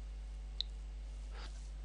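A single sharp computer mouse click lands once, close and crisp, over a quiet steady hum, with a faint softer rustle shortly after.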